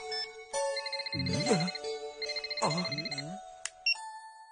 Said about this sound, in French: Ça vient de qui, ce SMS?